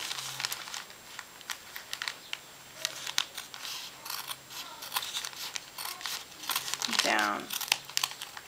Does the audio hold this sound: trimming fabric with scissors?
yes